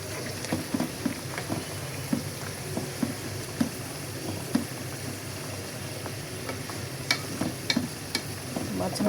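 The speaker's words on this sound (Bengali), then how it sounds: "মাঝে মাঝে এসে আমি একটু নাড়াচাড়া দিয়ে দিচ্ছি।" Onions and spices frying in oil are stirred now and then, soft sizzling broken by scattered clinks and scrapes of a utensil against the pan, moderately close and without talk.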